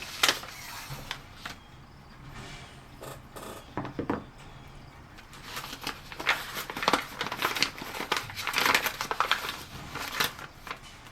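A paper envelope of batteries is handled close up, with soft crinkling, rubbing and papery rustles in irregular bursts, quiet and without talk.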